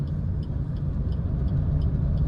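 A learner driver's car accelerating in third gear during a driving lesson in Nawada, with a steady low engine rumble and road noise at close range and no talk.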